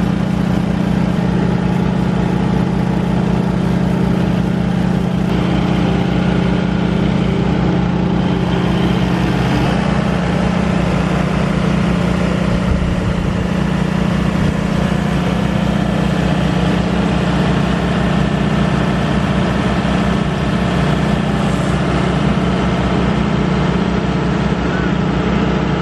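A tractor engine runs steadily and loudly for the whole stretch at a cranberry harvest, a constant low drone with some voices faintly under it.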